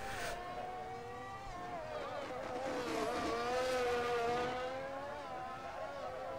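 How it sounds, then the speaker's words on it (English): Formula 1 car in the F1 22 video game at the Azerbaijan circuit, engine note swelling and falling through hard braking and downshifts, a steady loud whine with sweeping harmonics. "Hard braking down into turn 1,"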